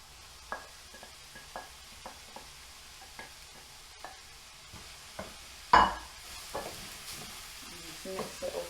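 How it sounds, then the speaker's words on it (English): A spoon stirs cooked-down vegetables and meat together in a pan, making soft scraping strokes at a regular pace over a gentle sizzle, with one sharper clank partway through. "Mix it all together."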